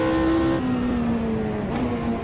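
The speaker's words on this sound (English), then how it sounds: "this car's got a much noisier engine than that one" Race car engine in Automobilista 2, a steady droning tone that steps down in pitch as the car shifts, noisy and continuous with a whirring mechanical edge throughout.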